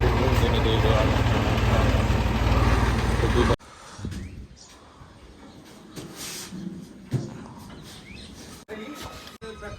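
A tractor engine idles with a loud, steady low rumble for a few seconds, then cuts to a quieter outdoor scene with faint birdsong.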